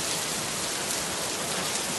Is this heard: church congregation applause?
no